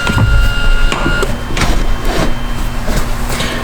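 A BMW M8 seat slides back on its rails after its four bolts are removed, giving a steady mechanical scrape with a few clunks and knocks, close and fairly loud, with no talking.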